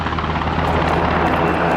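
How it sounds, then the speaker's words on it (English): A helicopter in the tactical shooter Ground Branch sets down close by, its rotor and engine a loud, steady, dense roar throughout. "the fact that a helicopter has just opened up, landed right next to them"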